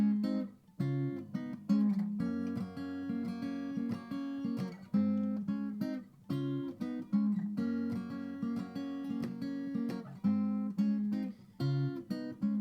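Acoustic guitar fingerpicked in a steady chorus picking pattern from a song, plucking several strings together over changing chords, clear and close with no voices.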